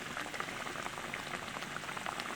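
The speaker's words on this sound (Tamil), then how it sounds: "கறி கொதிச்சிருச்சு." A pot of Sri Lankan spicy fish curry bubbles at a steady boil, with a continuous close, fizzy simmering texture and no talk.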